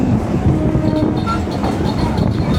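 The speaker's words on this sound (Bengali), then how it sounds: "অন্তিম স্টেশন এই ট্রেনের।" A train pulls into Namkhana terminal station, a rumbling low-frequency roll of railway carriages with faint wheel and track noise, steady and close without speech.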